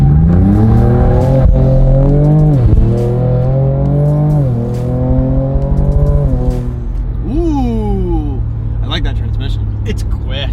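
A Ford Ranger Raptor's 402-horsepower twin-turbo V6 pulls hard on the street, engine note rising through gears with shifts and a brief tire chirp, loud inside the cabin while people talk over it.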